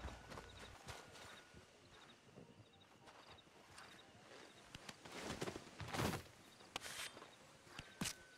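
Horse hooves in Red Dead Redemption 2 clip-clop at an unhurried walking pace, soft and somewhat distant, with a few louder thuds toward the end.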